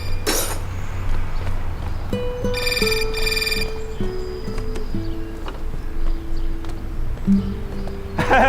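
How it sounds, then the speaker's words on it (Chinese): A telephone rings with an electronic melodic ringtone, a sequence of sustained tones stepping up and down, preceded by a short bright trill, close and clear in an otherwise quiet room. "电话。"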